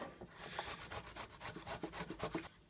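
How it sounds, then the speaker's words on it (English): A tomato being rubbed against a grater in a kitchen while making Lebanese kamounit banadoura, giving a steady run of soft, close rasping strokes with no talking. "First, I'm going to grate the tomato."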